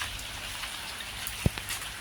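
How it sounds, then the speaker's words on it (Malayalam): Rain falls steadily in a soft, even hiss, quiet and close, with one brief sharp drip or tap partway through. "പിന്നെ ഫുള്ള് മഴ ഗൈസ്, ഫോണൊക്കെ നനഞ്ഞ് ഒരു ഇതായിട്ടുണ്ട്."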